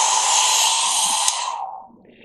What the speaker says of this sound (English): the other way to move colour about is with the hairdryer